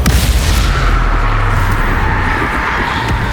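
Confringo fire spell blast in Hogwarts Legacy: a loud, heavy boom with a sustained roaring rumble that fills the whole moment, close and powerful, with no voices.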